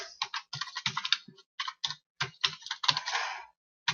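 Computer keyboard typing in CorelDRAW, close and crisp: irregular bursts of key clicks with short pauses, including single presses like Tab and Enter, ending in a longer clattering run.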